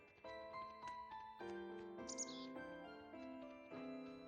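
A fish bird creature in a video game gives bright chirps over layered game music with steady melodic tones, one brief high twittering burst in the middle, moderately loud.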